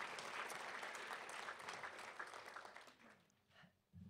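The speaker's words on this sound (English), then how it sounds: "We can clap for them." A conference keynote audience applauds steadily, a dense wash of clapping that thins and fades out toward the end.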